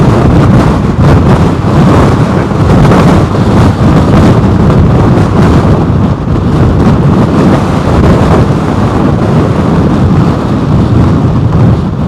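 Strong wind of Storm Henk buffeting a microphone at Heathrow Airport, a loud, continuous roaring rush with gusty swells throughout and no talking.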